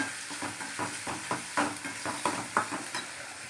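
Onions and tomatoes sautéing for kudal curry, stirred with curry leaves and mint in a pan, give a steady sizzle broken by regular scraping strokes of the spoon, close and moderately loud with no voices.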